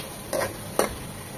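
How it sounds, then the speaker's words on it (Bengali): Two quick scraping stirs move hilsa fish head and pieces around a frying pan, soft spatula swipes over a faint steady sizzle. "এখন আর ঢাকবো না, ভালোভাবে কষিয়ে নেব নেড়ে চেড়ে।"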